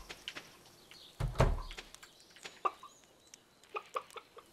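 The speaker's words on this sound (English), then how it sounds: "Let's go visit our other bird first. I don't even remember this hen's name, Timothy." A hen in the video game Stardew Valley clucks in short, soft, repeated bursts, with one louder squawk early on, over a quiet background.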